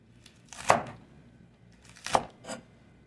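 A knife chops celery on a cutting board while chicken is being prepared, two or three crisp, close cuts spaced apart with quiet pauses between.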